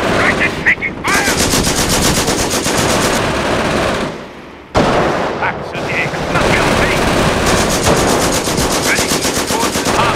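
Sustained rapid machine gun bursts in the Company of Heroes game, loud and close, running almost continuously with a brief lull near the middle before the firing resumes.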